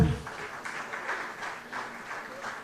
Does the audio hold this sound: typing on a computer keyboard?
no